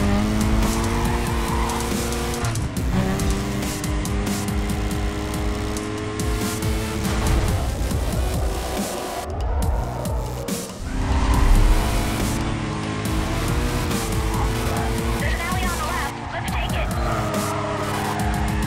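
Racing car engine roaring with tire squeals and skidding in Need for Speed: Carbon, a continuous loud drone with revving swells and a few sharp screeches, with people talking over it.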